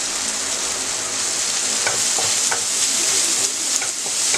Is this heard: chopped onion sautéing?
yes